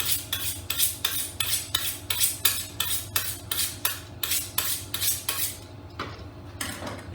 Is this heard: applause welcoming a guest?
no